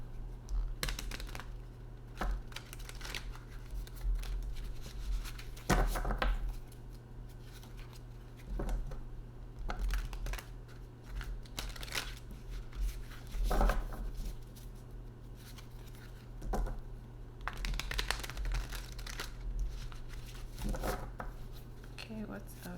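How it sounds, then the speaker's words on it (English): Tarot cards being shuffled in quick bursts of riffling and soft slaps, repeated several times at close range beneath a steady low hum, with a voice talking intermittently. "Let's do a quick shuffle."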